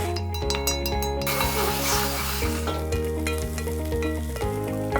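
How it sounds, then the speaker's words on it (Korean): Steady loud sizzling of onions sautéing in butter in a pot, with occasional clinks of a utensil stirring, under a constant musical background. "냄비에 버터 한 조각 넣고 양파가 노릇해지도록 볶아주시고"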